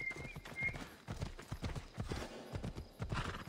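A horse's hooves clip-clop in a quick uneven rhythm in the video game Assassin's Creed Odyssey, fairly close, over a low background of game ambience.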